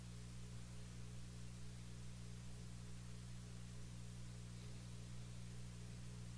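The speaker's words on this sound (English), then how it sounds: "Do you hear a hiss? Because if you no longer hear a hiss, it's the AC unit that I have in here" Steady broadband hiss from an air conditioning unit running in an indoor room, constant and unbroken with a low hum beneath it, faint and alone with no talking.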